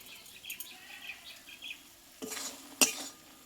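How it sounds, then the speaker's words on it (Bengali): Taro stem curry stirred in a pan after spice powder goes in, a quiet low simmer with a few scraping passes and a sharp metal clink of the spoon near the end. "এই মশলাটা দিয়ে আমি একটু এভাবে নাড়িয়ে নেবো"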